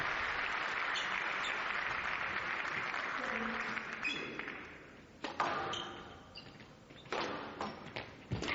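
Squash match crowd applauding a shot between Mohammad El Shorbagy and Alex Gough, a dense burst of clapping that fades after a few seconds, followed by sparse scattered claps, thuds and squeaks in the court.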